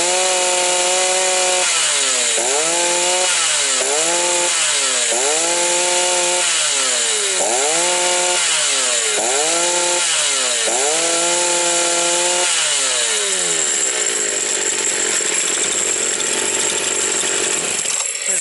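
A model 3800 chainsaw engine runs on its own up close, revving in repeated rising and falling bursts roughly every second, then settling into a steady high buzz.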